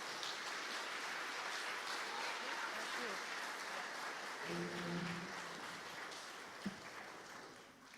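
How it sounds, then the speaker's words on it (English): Round of applause from a regional gathering's audience at a closing session, steady clapping throughout that tapers toward the end, with a few brief voices and a sharp knock partway through. "a round of applause to thank Joanne"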